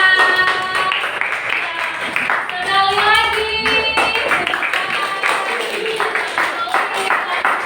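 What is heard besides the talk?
classroom applause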